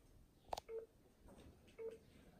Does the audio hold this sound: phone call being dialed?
yes